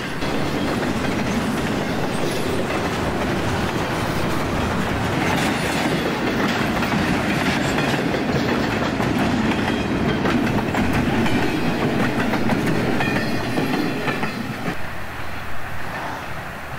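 Westbound 23K intermodal freight train with double stack containers up front rolls past close by, a loud steady rumble and clatter of wheels on rail throughout, easing slightly near the end.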